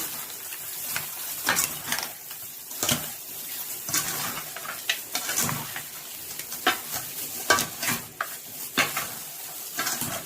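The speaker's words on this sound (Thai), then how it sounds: "คลุกเรียบร้อยผัดก๋อเอาเอามาผัดกันเลยครับ" Ingredients for braised pork leg being stir-fried in a pan, with a steady loud sizzle and repeated scraping, clattering strokes of the spatula in an irregular rhythm, close up and without talk.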